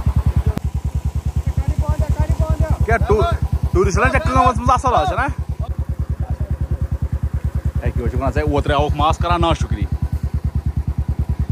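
A motorbike engine idles and runs with a fast, steady low thumping throughout, close and loud, while people talk over it.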